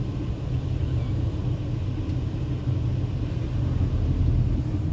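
A car drives through traffic past flyover construction work at Porvorim, with a continuous low road rumble and engine drone heard from inside the vehicle.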